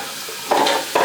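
Olive oil hits a hot pan with two quick bursts of sizzling over a soft background hiss, close and fairly loud, with no talk.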